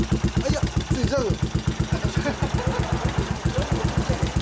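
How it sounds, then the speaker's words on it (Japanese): A Yamaha SR400 custom cafe-style single-cylinder motorcycle idles close by with a steady, even thumping pulse, loud and alone throughout, with faint voices in the background. "エンジン音聞かせて。"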